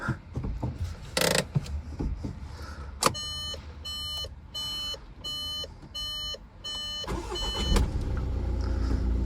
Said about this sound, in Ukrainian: Автомобіль дуже гарно завівся, буквально з півобриту.